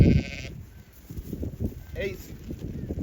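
Sheep bleat out on a farm field, a few wavering calls near and far amid scuffling and background talk from people trying to catch them.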